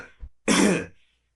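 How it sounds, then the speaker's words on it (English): A single harsh, loud cough burst, heard alone after a faint lead-in, from a man in the nitre-encrusted damp of a wine vault. "How long have you had the cough?"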